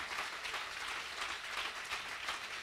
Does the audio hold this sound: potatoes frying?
no